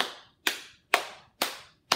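Four sharp, evenly spaced claps from a storytime leader keeping rhythm for a children's cookie-jar chant, each crisp hit fading quickly, close and alone with no voices.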